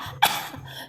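One short, sharp cough bursts out and trails off into quiet breathing noise; no one speaks.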